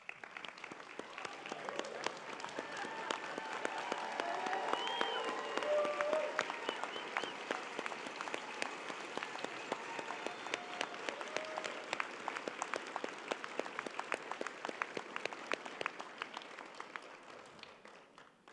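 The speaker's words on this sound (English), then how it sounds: "I would like to give one more standing round of applause for our graduates." Sustained applause from a standing graduation crowd honoring Eagle Academy graduates, a dense wash of many hands clapping that swells and then fades at the end.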